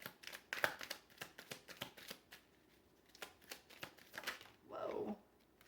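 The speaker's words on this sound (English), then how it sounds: "One more shuffle." Tarot cards shuffled by hand: a quick series of crisp riffling flicks and slaps, close and fairly soft, ending in a longer riffle near the end, with no speech.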